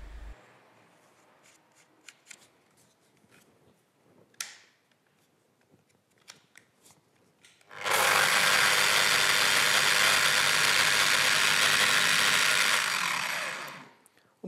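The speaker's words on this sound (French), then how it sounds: "je suis dans un mouvement de disque de ponçage excentrique" A Festool eccentric sander with its sanding disc spinning. After a few quiet clicks and handling knocks, it starts with a loud, steady, close whirring roar that holds for about six seconds and then winds down.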